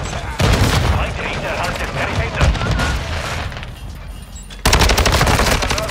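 The HCR56 fires in Call of Duty: Modern Warfare II in rapid automatic bursts, loud and close, with a short pause before another burst. A player talks over the shooting.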